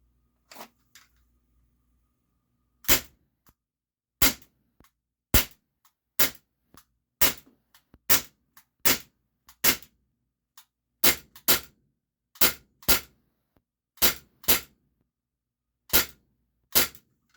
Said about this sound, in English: Pull and then shoot in double action.